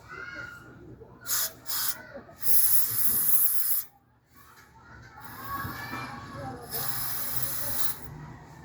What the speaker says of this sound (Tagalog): Spray, carb cleaner.